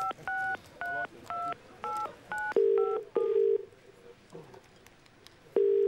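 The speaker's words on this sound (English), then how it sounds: "We're ringing Tom Irvine from Penrith" DTMF tones of a telephone number being dialed for a radio show call, a quick rhythmic series of six beeps, followed by long ringback tones with a gap between them, clear and close with no talking.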